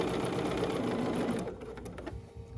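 Sewing machine stitching swimwear fabric, a loud, close, continuous buzzing run that stops after about a second and a half, followed by softer handling noises.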